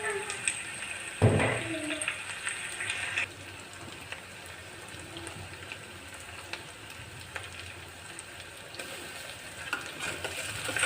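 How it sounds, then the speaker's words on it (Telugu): Ginger garlic paste hits hot oil in a steel pan with a sharp burst of sizzling and a metallic clatter, then a steady close frying hiss continues while the pan is stirred. "ఇప్పుడు అల్లం వెల్లిగడ్డ పేస్ట్ వేస్తున్నాను."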